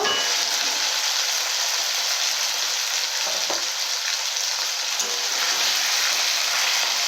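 Chicken pieces frying with fried spices and toasted flour for capsicum chilli chicken, a loud, dense sizzle running throughout with occasional stirring clinks and scrapes, no voices.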